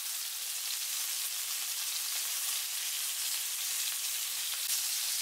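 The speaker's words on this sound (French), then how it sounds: "Quand l'huile est chaude, je mets les boulettes de bœuf. Je les laisse saisir." Beef meatballs searing in hot oil in a frying pan give a continuous, even hiss of sizzling fat, steady and close with no talking.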